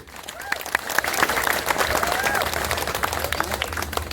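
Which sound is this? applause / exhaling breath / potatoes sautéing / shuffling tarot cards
applause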